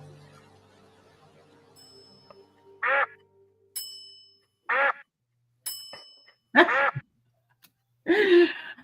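Several ducks quack in short separate bursts, spaced apart and fairly near, with a few faint bell-like dings between them and no talk.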